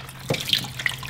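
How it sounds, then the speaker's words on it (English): Tap water runs steadily from a faucet as milking equipment is washed in hot soapy water after milking a cow. It is a soft, continuous rush with a few faint splashes and no talk. "Basically anything that the milk touches, we wash with the hot soapy water."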